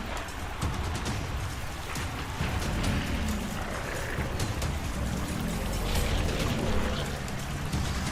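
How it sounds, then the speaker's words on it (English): Water surges and bursts out in a continuous, heavy rushing roar that resembles muffled thunder. It holds loud and steady throughout, with a dense churning rumble underneath. "The sound of water bursting like muffled thunder."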